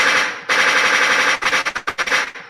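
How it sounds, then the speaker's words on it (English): A machine gun sound effect, a loud sustained burst followed by a rapid string of separate sharp shots that fade at the end, close and alone. "One moment for the gunshots."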